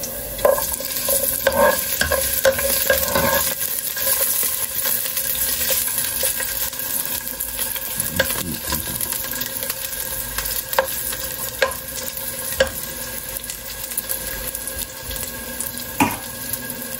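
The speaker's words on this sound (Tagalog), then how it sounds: "Ginigisa muna saan? Luya at saka bawang." Ginger and garlic sauté in a pan for a yellow snapper sinigang, with a continuous crackling sizzle and repeated clinks and scrapes of a utensil stirring against the pan.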